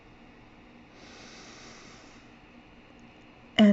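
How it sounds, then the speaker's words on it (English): A soft, drawn-out inhale through the nose, a faint airy hiss lasting about a second in a quiet calm setting during a guided meditation, followed by a sudden louder sound at the end. "Breathe in"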